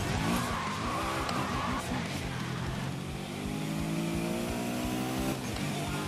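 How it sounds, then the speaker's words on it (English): A McLaren supercar drives in Need for Speed Most Wanted (2012), its engine droning steadily with rising and falling revs and brief tire squeals, loud and continuous throughout. "I'm chilling in my McLaren right here."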